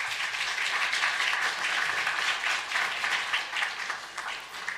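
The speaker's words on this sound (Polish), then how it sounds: "Proszę o wielkie brawa." Audience at a Polish history panel discussion applauding as panelists are invited up, sustained loud clapping filling the hall throughout, gradually easing toward the end.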